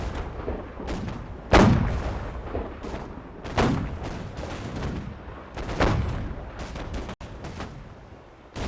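Ship guns in a naval battle video game fire in repeated heavy booms at irregular intervals, each with a rolling rumble, over a constant low background roar of distant combat.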